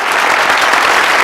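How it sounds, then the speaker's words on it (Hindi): Loud, dense applause with a faint crowd murmur, a continuous burst of many hands clapping that fills the whole moment, close and steady with no speech on top. "तालियां।"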